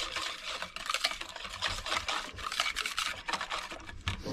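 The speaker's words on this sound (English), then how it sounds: "Mix this first one in just a little bit." Instant pudding mix being stirred into an ice cream base inside a Dutch oven, outdoors in frigid temperatures, giving a steady close scraping and swishing of utensil through thick mix with no talking.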